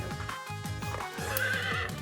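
A horse whinnies loudly in the video game Miitopia, its neigh layered over rhythmic clip-clop hoofbeats and game music, with no talk.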